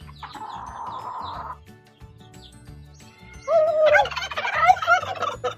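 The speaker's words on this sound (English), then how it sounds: "there's your greeting from our turkeys" Tom turkeys on a farm gobble loudly in a burst of rapid, warbling calls, preceded by softer clucking and bird chatter in the background.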